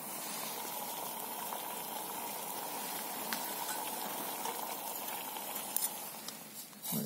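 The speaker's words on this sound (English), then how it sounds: "Water is boiling." Water boils steadily in a pot over a campfire, giving a continuous close bubbling hiss and soft patter that holds at an even level throughout, with a few small clinks near the end.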